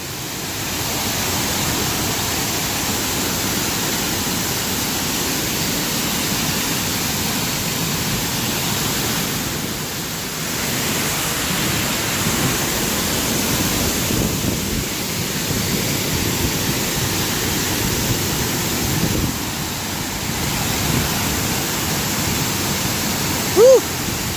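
A waterfall on the Vickery Creek Trail gives a steady, full rushing roar of heavy water that holds throughout, close and loud with no breaks.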